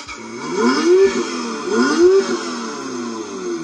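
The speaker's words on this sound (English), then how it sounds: "So in order to go forward, you would just twist the throttle over here." An electric ride-on toy ATV quad drives forward, its motor whining in two rising sweeps that swell and ease, close and fairly loud with no talk.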